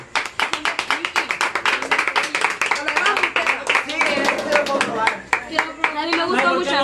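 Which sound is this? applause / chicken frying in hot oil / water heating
applause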